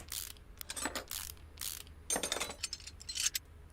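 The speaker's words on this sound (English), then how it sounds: "Off comes the caliper." Brake caliper being removed in the video game Car Mechanic Simulator 2018, a series of short mechanical ratcheting bursts, like a wrench turning bolts, repeated several times with brief pauses between.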